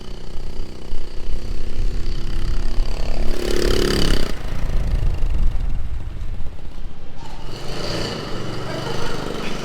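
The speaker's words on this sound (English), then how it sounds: "And Josh is having a riot on the Honda sport bike thing." Honda sport bike engine running steadily in a workshop, a continuous loud drone with a couple of surging rev swells, no talk over it.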